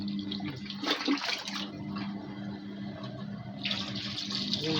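Water sloshes and splashes during a manual final rinse in a washing machine filled by bucket, a close, continuous churning with brief louder surges and no talking.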